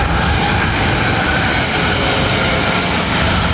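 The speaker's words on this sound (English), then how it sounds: "Next takeoff is Southwest 2615, headed out to San Francisco on 737-700" A Southwest Boeing 737-700 takes off at LAX, a loud continuous jet engine roar that holds steady and dense throughout with no speech.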